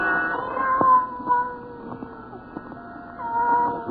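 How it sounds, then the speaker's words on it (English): A single cat cries in drawn-out, wavering meows over a murky background, moderately loud with a few faint knocks and clicks scattered through. "Then the silence was broken by the faint crying of one cat."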